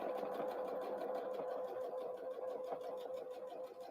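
A sewing machine back-stitches a few stitches on a Christmas tree napkin, giving a quick, even, rapid mechanical chatter with a steady hum, close and alone.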